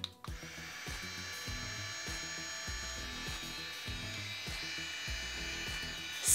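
INGLAM anti-scald 2-in-1 airflow styler, a straightener and curling iron, blowing air with a steady whirring hiss and high motor whine, close and constant, with rhythmic background music underneath.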